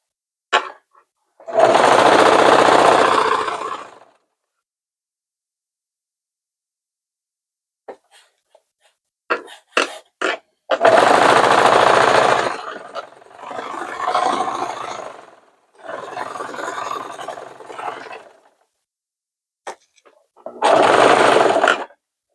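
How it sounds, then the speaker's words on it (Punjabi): A sewing machine stitching a seam with piping on a jumper, running in loud, close bursts of rapid whirring, each a few seconds long, broken by pauses and faint handling clicks. "ਤੇ ਹੁਣ ਆਪਾਂ ਸਿੱਧੇ ਪਾਸੇ ਜਿਹੜੀ ਸੀਨ ਲਾਉਣੀ ਆ ਉਹ ਲਾਉਣੀ ਆ"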